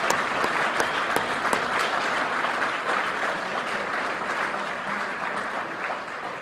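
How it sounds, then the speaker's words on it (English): A full round of applause from an audience at a political concession speech, continuous dense clapping at moderate level with occasional sharper claps standing out, no speech over it. "if you would join in giving them a big round of applause as well"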